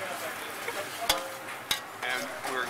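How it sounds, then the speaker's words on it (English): Whole spices frying in a pan over low heat for a Keralan fish curry, a steady soft sizzle with a couple of sharp scrapes from stirring. "we're going to fry these spices, stirring constantly until they start to stick on the bottom of the pan"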